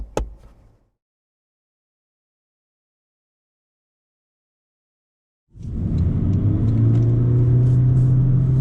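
A 2023 Toyota Corolla Hybrid accelerates from rest after near silence, its engine and road rumble building suddenly to a steady, loud, low drone from inside the car.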